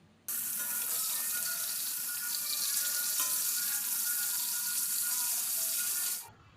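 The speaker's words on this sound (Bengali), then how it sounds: "মাছগুলো হালকা এপিট ওপিট তেলে একটু ভেজে নিচ্ছি।" Fish frying lightly in hot oil, a steady broadband sizzle that starts abruptly and holds evenly for about six seconds before cutting off, close and fairly loud with no talking.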